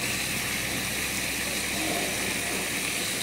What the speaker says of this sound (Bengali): একটু জল দেব মশলা কষানোর জন্য